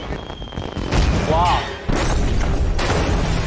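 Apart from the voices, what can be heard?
explosion of a building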